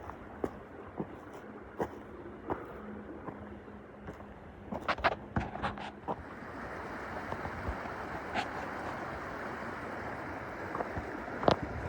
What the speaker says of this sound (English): Just been walking along the side of this creek.